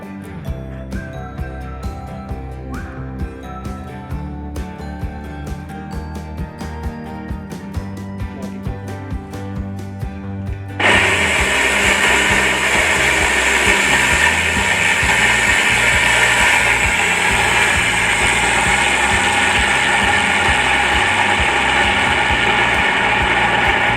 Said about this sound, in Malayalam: നമുക്ക് ഈ മിക്സി ഒന്ന് പ്രവർത്തിപ്പിച്ച് നോക്കാം.